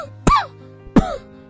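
A man soaked through by rain coughs twice, loud and close, about a second apart, with nothing else heard.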